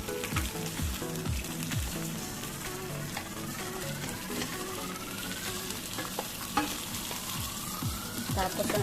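A fish that has just been flipped fries in a pan, making a steady, fairly quiet crackling sizzle with scattered pops and faint background tones, and no talking.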